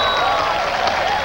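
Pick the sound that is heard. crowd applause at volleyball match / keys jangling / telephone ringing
crowd applause at volleyball match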